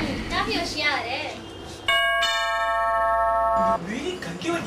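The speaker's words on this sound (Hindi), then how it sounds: "बीवी घंटी बजी, मैं देखता हूँ।" Inside a home in a Hindi stage drama, a doorbell rings out as a steady, bright electronic chime lasting about two seconds, with voices talking before and after it.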